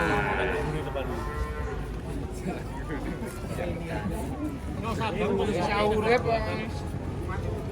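Cattle moo repeatedly over a busy crowd of people chattering nearby at a cattle unloading from a truck, the lowing mixed into steady background talk and noise.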